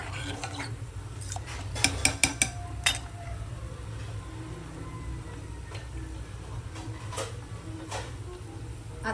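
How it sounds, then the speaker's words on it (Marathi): Lentils being stirred into mutton in a home cooking pot, with a few sharp clinks of a spoon against the pot near the start, then soft scraping and stirring over a steady low hum. "या दोन्ही डाळी मटणामध्ये टाकून द्यायच्या. व्यवस्थित हलवून घ्यायचं."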